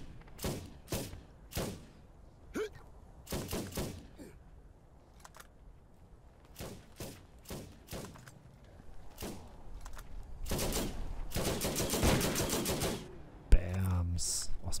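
Rifle gunfire in Borderlands, a scattering of quick, punchy shots in short bursts and single pops, moderately loud, with a dense rapid burst near the end and a voice speaking between them.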